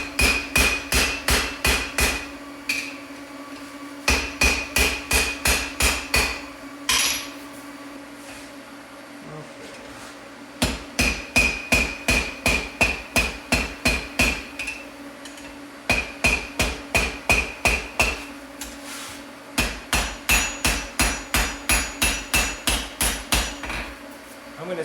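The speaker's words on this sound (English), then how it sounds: "I'm going to switch back and forth to either side of this form to sort of, even out my forging." Hammer forging a steel bottle opener on an anvil, bursts of rapid, ringing metallic blows in quick rhythmic runs separated by short pauses, loud and close.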